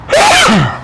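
A single sharp sneeze bursts out close by during a quiet spiritual lecture, rising and falling in pitch over less than a second.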